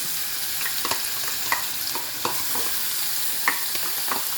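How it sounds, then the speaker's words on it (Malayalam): Chopped onion added to ginger frying in a pan, a steady hiss of sizzling oil with scattered scraping taps of a spoon stirring, close and moderately quiet. "നമ്മുടെ ഈ സവാള കൊത്തിയരിഞ്ഞതിട്ട് കൊടുക്കാം"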